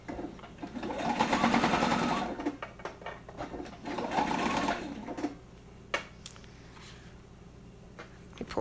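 A sewing machine stitches a microwave bowl cozy in two steady whirring runs of about a second each, then stops, with faint handling clicks afterward.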